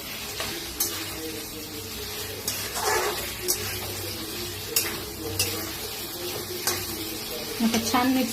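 Hot water is poured into a pan of stuffed chillies, making a close, steady watery hiss and sizzle broken by a few spoon knocks against the pan, with brief talk underneath.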